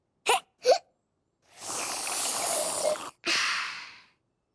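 Cartoon hiccups: two quick, sharp hiccup bursts, followed by a long hissing breath and another breathy gulp, all fairly quiet and alone.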